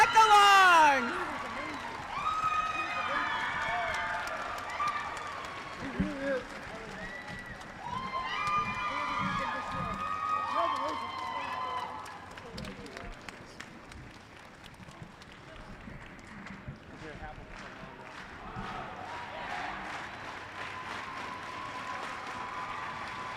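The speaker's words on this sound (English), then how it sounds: "Give them a huge round of applause, folks." Crowd at the FTC Arizona State Championship applauding and cheering robotics nominees, with sustained clapping, whoops and shrill whistles, loudest at the start and continuing at a steady level, mixed with voices.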